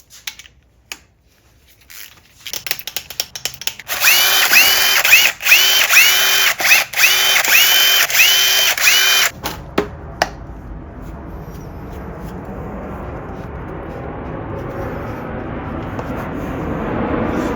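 Power tool removing oil pump bolts from a Porsche 944 Turbo engine during a teardown: scattered clicks, then several seconds of loud rattling impact bursts, followed by quieter continuous background noise.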